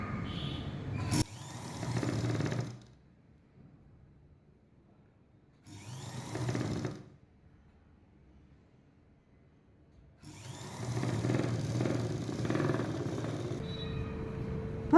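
An electric sewing machine stitching a seam on a blouse front, running in three bursts of steady mechanical whirring separated by quiet pauses, fairly close and alone.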